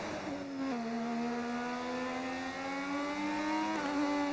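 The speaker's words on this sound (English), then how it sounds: "Even the engines as well, which sound awesome." Modded 1986-style Formula 1 car engines in the F1 25 racing game hold a high, sustained whine, pitch dipping briefly then climbing steadily as the car accelerates, with a short shift blip near the end.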